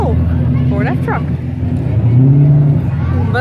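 A Ford F-Truck rumbles past in a car parade at the Red Centre NATS 2017, a loud, low engine drone that rises in pitch briefly as it accelerates, with people talking nearby.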